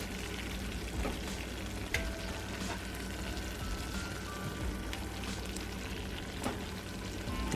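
Vegetable toppings go into sauce in a hot cast iron skillet for a crustless keto pizza, giving a steady close sizzle with a few sharp ticks and clinks throughout.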